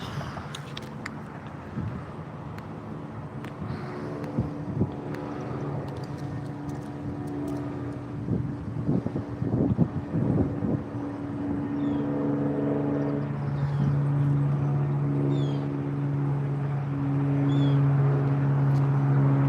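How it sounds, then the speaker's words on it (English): An airplane passing overhead in an outdoor setting, its engine drone building steadily and growing louder toward the end, alongside scattered knocks and handling noises. "The plane, boss, the plane."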